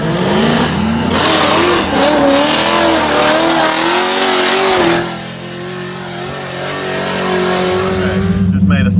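A Formula Drift car on track during a qualifying lap in Orlando, its engine loud and close, revving and wavering in pitch while tires squeal, steady for several seconds before easing briefly and building again.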